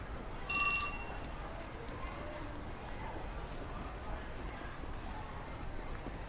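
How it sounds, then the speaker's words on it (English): Email notification chime from a phone in the video game 428: Shibuya Scramble, a short bright ringing tone near the start, followed by quiet background. "Just then, Norikawa's phone chimed."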